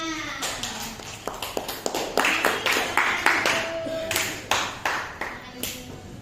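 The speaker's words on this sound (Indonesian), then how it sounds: "Oke, tepuk tangan." A classroom of students claps their hands together in a brief, uneven round of sharp slaps, with a few pings and taps mixed in, fairly close and loud.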